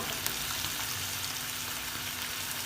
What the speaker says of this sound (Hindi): जैसे चिकन का कलर चेंज हो जाएगा इसके अंदर ऐड करेंगे हम थोड़े से स्पाइसेस